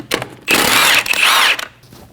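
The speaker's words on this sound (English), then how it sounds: "Using a 17mm socket, remove the 5 lug studs." A power tool spinning a 17mm socket to remove a wheel lug stud on a 2012-2022 Volkswagen Passat: a loud, close whirring burst of about a second, with short mechanical clicks just before and after.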